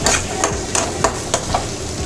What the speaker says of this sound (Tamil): முட்டை பொரியட்டும்